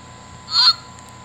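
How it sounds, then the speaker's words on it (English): A Wild Republic Audubon plush Canada goose gives off a single short recorded honk, clear and close against a quiet background. "Canada goose,"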